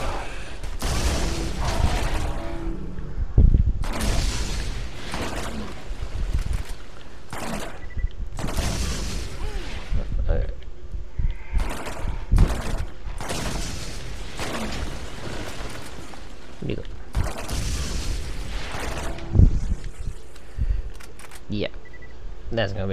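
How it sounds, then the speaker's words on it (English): Small explosions from a weapon in the Borderlands video game, a string of sharp bursts and pops scattered irregularly through the stretch, mixed with game noise and someone talking throughout. "I think this thing has a passive where it causes a little miniature explosion."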